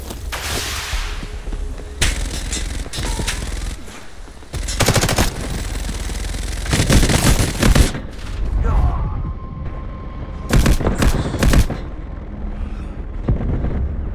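Gunfire in an extraction shooter video game: loud bursts and single cracking shots come in irregular clusters, some with booming tails, over constant ambient battle noise.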